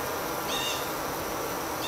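A dense, steady buzzing drone of many honey bees fanning the hive close by, continuous throughout with no voices.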